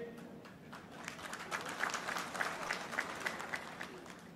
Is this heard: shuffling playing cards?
no